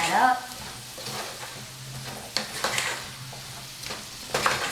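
Small diced potatoes stirred in a curry pan, a steady low sizzle of frying with a few scraping stirs of a utensil, close and moderately quiet.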